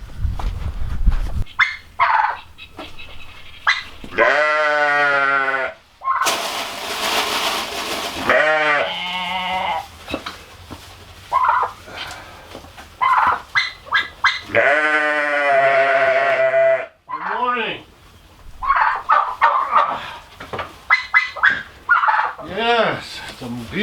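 A newly lambed ewe and other sheep on a homestead bleat repeatedly, loud and close, in long wavering calls with short gaps between them. Other animal calls are mixed in, with little talk.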